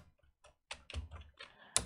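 Typing code on a computer keyboard: a few faint taps, then a quick run of sharp, close keystrokes in an irregular rhythm, ending with a louder key press, with no talk.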